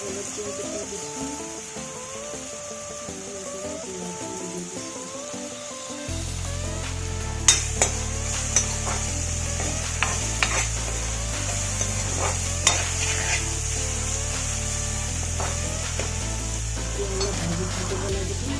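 Ginger garlic paste frying in a pan with green chillies, a soft sizzle that turns into steady frying with a low background hum, punctuated by sharp clicks and taps of a spoon stirring.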